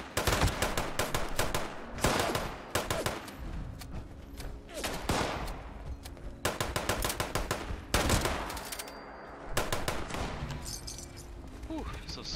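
Assault rifle gunfire in Fallout 76, with fast automatic bursts of sharp shots arriving in repeated volleys, loud and close, separated by short pauses.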